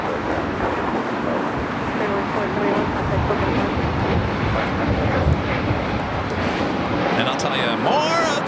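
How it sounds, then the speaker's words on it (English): A Spirit Airlines Airbus A320neo on Flight 471 to Salt Lake City at Los Angeles International Airport gives off a steady, moderately distant jet engine roar with wind noise, and a few faint chirps come late. "Spirit Airlines Flight 471 heading to Salt Lake City in an A320 Neo"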